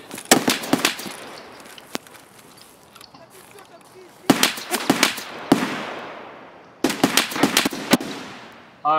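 Gunfire in Escape from Tarkov, bursts of sharp, loud automatic shots in clusters separated by quieter gaps with ringing decay, and a voice speaks briefly between them.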